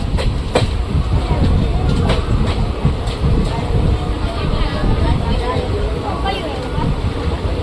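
Continuous rumble and rattle of a train at Lunidhar railway station, Gujarat, on the Bhavnagar–Porbandar route, with a few sharp clanks and a voice speaking over the steady noise.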